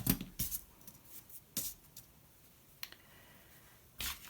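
Scissors snip through felt while shaping handmade lavender flowers, a few quiet, sharp cuts spaced apart with soft handling noises between them.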